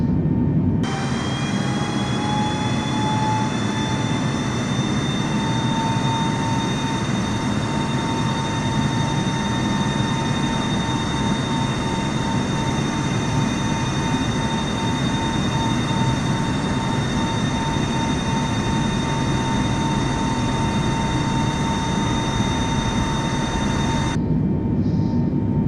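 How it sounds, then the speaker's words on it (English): Boeing 747-8 Freighter jet engines in Qantas livery spooling up for takeoff from Melbourne in Microsoft Flight Simulator: a loud, steady broadband engine roar with rising whining tones, sustained throughout and cutting off abruptly near the end, no talk. "Boy, you hear them engines come alive."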